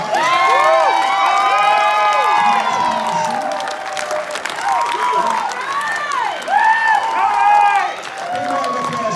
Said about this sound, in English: So again, give these guys a big round of applause.